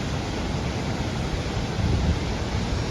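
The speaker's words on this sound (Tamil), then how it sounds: "இதாங்க நீங்கள் பார்க்குற இந்தியாவின் நயாகரா என்ற ஒரு அற்புதமான அதிரம்பள்ளி" Athirappilly waterfall in Kerala cascading down, a dense, constant roar of falling water that fills the whole clip with no voices.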